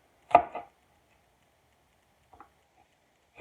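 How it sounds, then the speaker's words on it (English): Knife chopping an apple into pieces on a board, a few sharp separated knocks and thuds with long quiet gaps between them, close and fairly soft. "I feel like I'm hacking apart this poor apple"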